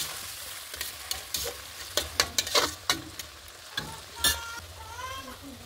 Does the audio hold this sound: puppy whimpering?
no